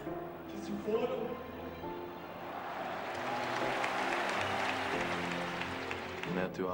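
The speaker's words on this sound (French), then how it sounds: "Je vous demande humblement d'applaudir en souvenir de tous nos frères qui ont disparu" A crowd at a football memorial gathering applauds in remembrance of players lost in a plane crash, a broad steady wash of clapping swelling in the middle and holding, with murmur from the gathering underneath.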